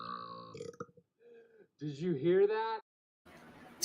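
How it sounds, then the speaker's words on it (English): A man lets out a long, loud, rumbling burp after drinking vanilla soda, preceded by choppy vocal sounds and followed by a brief pause and faint noise. "Excuse me, I'm burping already."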